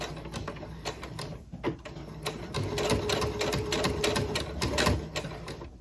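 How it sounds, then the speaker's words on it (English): A sewing machine stitches a Christmas tree skirt, its steady rapid needle chatter running close and loud throughout, with a few bursts of speed. "I'll stitch and I will do a back stitch."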